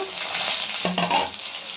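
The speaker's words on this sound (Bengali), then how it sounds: "আমার কচু ভাজা হয়ে গেছে। এবার এর মধ্যে আমি টমেটো কুচিটা দিয়ে দেবো।" Chopped tomato goes into frying taro (kochu) in a pan, and a steady loud sizzle flares with a sharper burst partway through as the pieces hit the hot oil.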